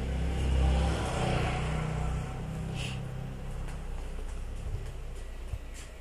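A large motorcycle engine idles and revs with a steady low rumble that swells briefly near the start, then settles, heard close up with no talk.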